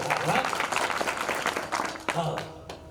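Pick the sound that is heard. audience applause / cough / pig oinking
audience applause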